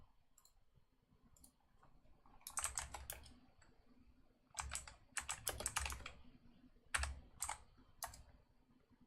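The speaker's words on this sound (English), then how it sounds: "Typing here." Quick bursts of clicky typing on a computer keyboard, several short runs separated by pauses, close and fairly quiet with no one talking.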